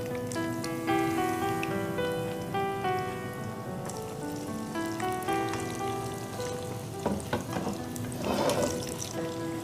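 Chicken pieces fry in hot oil in a wok, a steady crackling sizzle that runs throughout and flares briefly near the end, with music playing over it.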